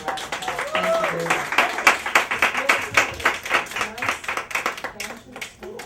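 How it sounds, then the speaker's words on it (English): Audience clapping at an evening award-dinner ceremony: a brisk round of applause from a modest crowd, fairly close, with a voice briefly heard over the clapping as it tapers off. "Let's have another round of applause."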